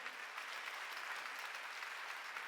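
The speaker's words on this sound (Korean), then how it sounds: "박수 좀 쳐줘요" Congregation applauding during a Wednesday church service, a soft, even roll of many hands clapping, faint and distant, steady throughout without speech.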